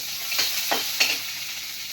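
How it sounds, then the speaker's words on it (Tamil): Mustard seeds and onion frying in hot oil for a pumpkin-leaf lentil kootu, giving a steady close sizzle with a few brief spatter bursts from stirring. "இப்போ கடுகு போட்டு, இப்போ வெங்காயம் போட்டுக்கலாம்."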